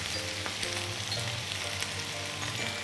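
Eggplant sautéing in a pan makes an even, continuous sizzle with soft stirring sounds, close and steady with no voices.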